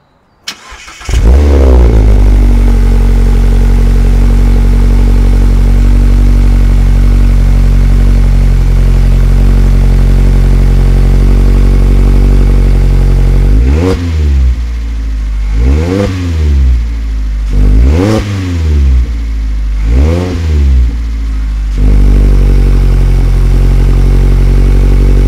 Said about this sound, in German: lassen wir auch hier mal den Motor starten